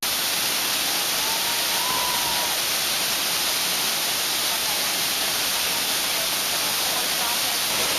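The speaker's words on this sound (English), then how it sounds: "This is a great waterfall." Havasu Falls in Havasupai roars as a steady, dense wash of falling water, loud and unbroken, with no other sounds standing out above it.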